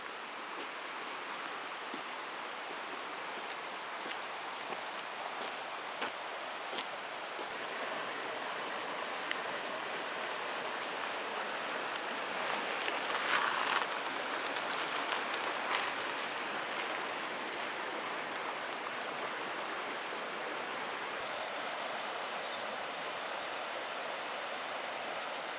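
A river flows steadily near Luxulyan Viaduct in Cornwall, a continuous close rushing wash of water holding an even level throughout with no talking.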